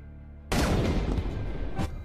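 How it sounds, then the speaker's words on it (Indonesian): A sniper rifle gunshot in an Iranian war film cracks loudly out of near silence, followed by a long, dense rumbling boom and a second sharp burst toward the end. "Dengan tembakan jitu, Hussein berhasil menembak kapten pasukan Irak."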